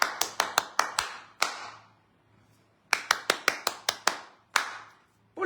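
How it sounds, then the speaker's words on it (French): Audience applause at a French political meeting breaks out in two short bursts of crisp, rapid clapping, separated by a quiet gap, with a third burst starting near the end. "Applaudissons pour Brice Ninche."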